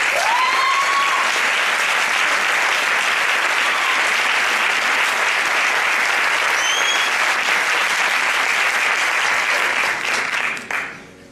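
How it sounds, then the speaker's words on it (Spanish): Theater audience applauding at the final of a flamenco singing contest in Leganés, a loud, sustained, dense ovation lasting about eleven seconds before tapering off at the end. "Un aplauso para ellos."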